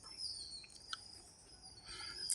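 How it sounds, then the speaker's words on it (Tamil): Sparrows and other birds chirp in the early morning, a few faint, scattered high tweets and calls spread over a soft outdoor background. "குருவிகள் சத்தம் பாருங்க"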